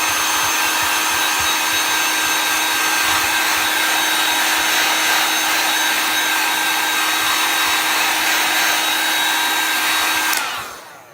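A hair dryer blows steadily close by to dry a freshly re-waxed spot on a Chalk Couture transfer project, a continuous broadband whoosh with a faint high whine that cuts off abruptly near the end.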